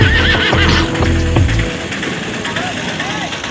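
A horse gives a loud, close whinny with shaky rising and falling pitch, then softer neighs follow over a steady low rumble.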